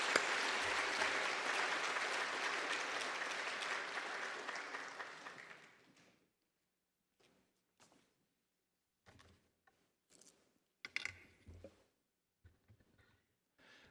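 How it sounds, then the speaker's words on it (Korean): A church congregation claps warmly to encourage a newly installed pastor before his sermon, dense sustained applause for about six seconds that fades out, followed by sparse shuffling and small knocks in a quiet sanctuary. "우리 따뜻한 마음의 격려의 박수 보내주시죠."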